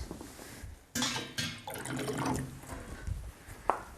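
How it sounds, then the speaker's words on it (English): Water splashes into a pan of cooking tomatoes in a few abrupt pours and sloshes, close and moderately loud, with a sharp clink near the end and no talk. "I'm just going to add a touch of water with these tomatoes."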